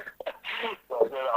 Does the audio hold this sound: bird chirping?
no